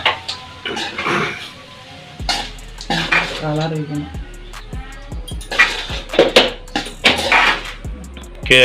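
Lemon rice being stirred in a pan, with repeated metal scrapes and clinks of a spoon against the cookware and a voice talking over much of it.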